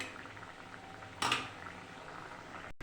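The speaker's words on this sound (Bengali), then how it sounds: "ঝোল ভালোভাবে ফুটে গেছে, ডিম দিয়ে দিচ্ছি।" Egg curry gravy simmers at a steady, faint bubbling boil in a pot, with one brief metallic clink partway through.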